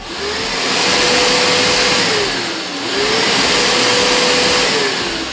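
A 2400W industrial vacuum cleaner with dust collection running in plain suction mode, a loud steady motor whine close up whose pitch dips and rises twice as airflow changes, no voices.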